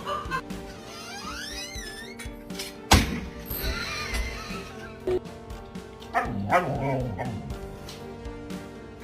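A pet dog yips, whimpers and barks excitedly over fizzy soda indoors, short bursts of high-pitched cries and barks with a sharp loud bang near the start, mixed with some background noise.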